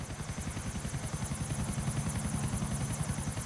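A helicopter in the video game GTA IV gives a loud, steady rotor chop with a rapid rhythmic thumping and a high whine on top, close and continuous with no talk.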